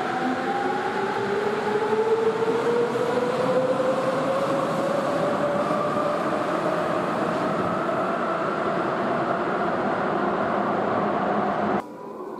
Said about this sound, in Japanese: 私としては9000系の加速音が好きで、ぜひ聞いてみてください。